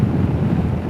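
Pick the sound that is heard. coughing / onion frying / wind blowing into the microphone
wind blowing into the microphone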